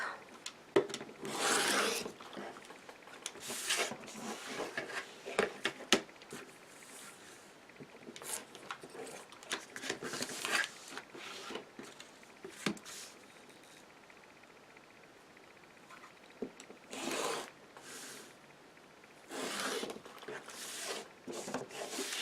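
Quilt fabric border units being trimmed, with repeated short rasping cuts and rustling fabric handling, fairly quiet and close, occasional brief talk between the bursts.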